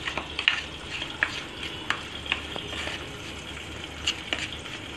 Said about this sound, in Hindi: और अब मैं इन सब चीज़ों को मिक्स कर दूंगी।